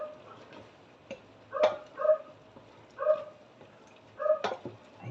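A dog gives several short yelps or barks, spaced irregularly, fairly close in an otherwise quiet room.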